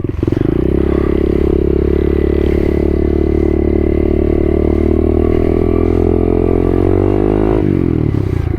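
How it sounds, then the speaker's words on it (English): A pit bike engine revs hard close by, holding a loud, steady buzzing drone with clattering mechanical noise before the revs drop off near the end. "I haven't even got this bike out of second gear yet."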